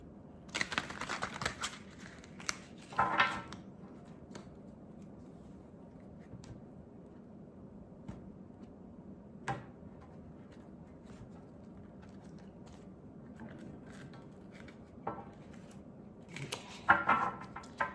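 Tarot cards being shuffled by hand, heard as a few soft, brief riffling rustles spaced across a quiet room, with one burst near the start and another at the end.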